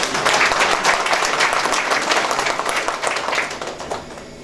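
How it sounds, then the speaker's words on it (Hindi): An audience applauding at a Hindi comedy poetry gathering in Ramgarh, Jharkhand, with dense, sustained clapping from many hands that fades slightly toward the end. "अगर आप समर्थन करना चाहते हैं तो एक बार मिलके ताली बजाइए।"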